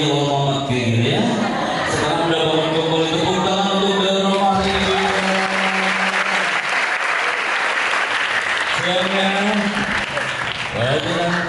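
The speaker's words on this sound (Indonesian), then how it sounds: "tepuk tangan untuk dari Roma hari ini" Audience applause at a motivational talk in Indonesia, a sustained clapping wash lasting several seconds, with a speaker's amplified voice and music-like tones running underneath at the start and end.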